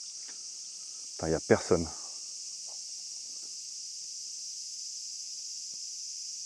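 Crickets chirp in a steady, high-pitched stream across the Wakayama countryside in Japan, a continuous insect drone that runs the whole time, with a brief spoken phrase near the start.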